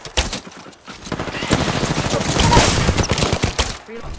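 Rapid gunfire in the shooter game Apex Legends, a dense rattle of shots building through the middle and easing toward the end, with brief pauses.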